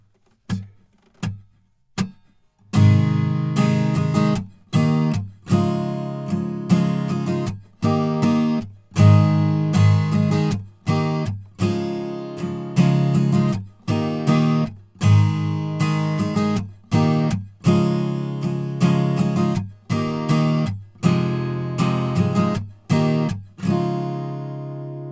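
Guitar strumming the chorus chords of a song, opening with a few separate chord strokes, then settling into a steady, rhythmic strum pattern with brief pauses between bars. The guitar plays alone and sounds close.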